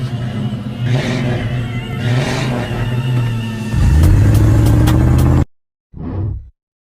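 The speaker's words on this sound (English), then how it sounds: "Look at my invisible car." A car engine revs up loudly and steadily as a comic sound effect, running for several seconds before cutting off, followed by a brief separate burst after a short silence.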